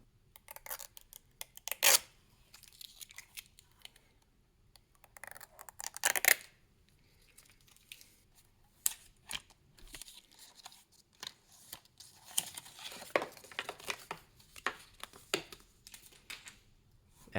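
Protective plastic film is peeled off a Meta Quest 2 VR headset, producing quiet, close crinkling and tearing rustles in short bursts with pauses between them.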